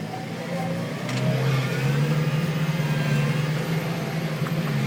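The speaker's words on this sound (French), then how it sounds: "roulez fort avec votre tracteur." A new tractor engine drives fast with a steady, loud mid-range drone that swells slightly as it accelerates and holds a constant roar throughout.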